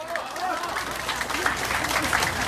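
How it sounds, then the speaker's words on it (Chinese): At a district party members' birthday and neighbourhood gathering, party members clap for themselves in a lively, uneven burst of applause mixed with crowd voices. "我们给自己掌声好不好？"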